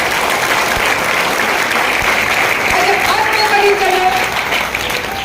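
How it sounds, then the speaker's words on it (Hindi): Loud, sustained applause from an audience at a business plan presentation, a dense continuous clapping that fills the whole stretch without letting up. "जोरदार ताली होगा"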